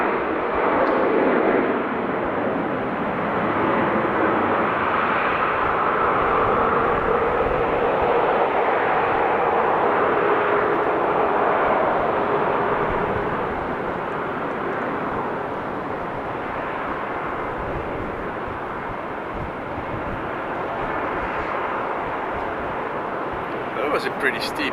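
A jet airliner roars during takeoff at Amsterdam Schiphol Airport, a steady, loud, broad engine rumble that lasts throughout and fades slightly toward the end.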